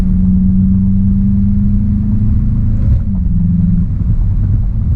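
Steady engine drone of a 2020 VW Jetta GLI with a 2-liter turbo, heard from inside, holding a constant tone before the pitch shifts near the end as it downshifts into fourth.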